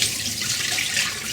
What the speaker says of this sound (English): when I dump this water out